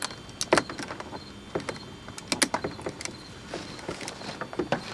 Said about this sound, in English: Pry that rascal out of there.